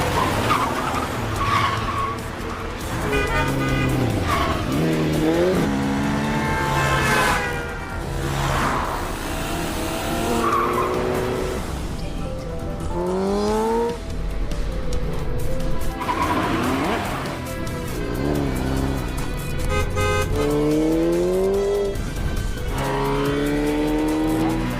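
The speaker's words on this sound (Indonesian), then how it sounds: "Alin pun mengejar pelakunya menggunakan mobil." Film car chase with repeated loud tire squeals and skids over roaring, revving engines, the screeches sweeping up and down in pitch again and again for the whole stretch, with no talk.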